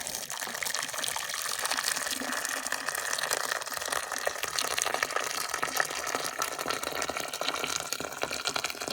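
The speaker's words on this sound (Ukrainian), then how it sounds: "закип'ятила воду, заливаю кип'яточком" Boiling water gushes and splashes steadily into a pot of stuffed peppers for several seconds, a continuous close pouring rush with no talking.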